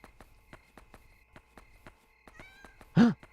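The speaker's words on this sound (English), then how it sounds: "We just saw a black cat." A black cat meows once, loud and close, inside the Yomawari game, following a faint run of soft rhythmic ticking and a brief chiming tone.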